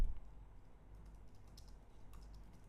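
Quiet, steady tapping of keys on a computer keyboard as Hebrew text is entered in a word processor, a loose run of soft clicks heard alone and close by.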